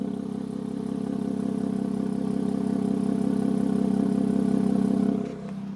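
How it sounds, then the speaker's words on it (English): A 3-liter V6 in an Infiniti Q60 Red Sport (400 horsepower) idles with a steady, low exhaust rumble heard close up, easing down slightly at the end. "It's a beautiful sound from a V6."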